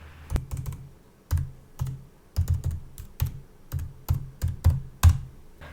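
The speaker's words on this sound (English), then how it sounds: "Let's hear how it sounds." Crisp, light typing on a 16-inch MacBook Pro laptop's scissor-switch keyboard, with short bursts of soft clicky keystrokes separated by brief pauses, close and fairly quiet.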